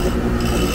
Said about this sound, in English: The Quickway 797 flywheel grinder.